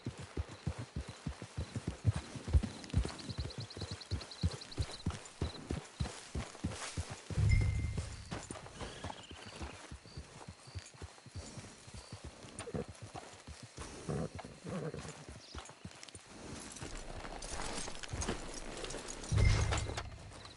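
A horse walks near a camp, its hooves clip-clopping in a quick steady rhythm over a constant outdoor hiss, with a couple of louder thumps along the way.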